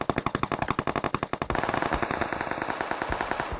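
Rapid automatic gunfire in a shooting video game, a fast regular burst of close, sharp shots that slows slightly into a denser rattling stream, with no talk over it.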